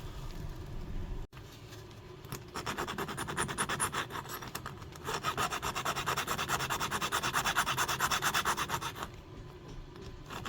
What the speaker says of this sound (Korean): 요 부위 좀 갈아내고 요 부위 갈아내고 이렇게 작업을 해야 될 것 같아요